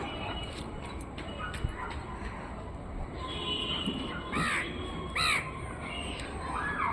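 A crow caws repeatedly from near its nest on a grape farm, several distinct harsh calls rising above steady outdoor background noise.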